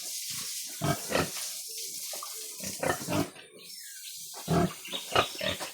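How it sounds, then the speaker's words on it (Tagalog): A breeding sow on a farm grunts and snorts in short, rough bursts at close range, several irregular grunts separated by pauses, with a faint high whine in the background. "ang ating baboy"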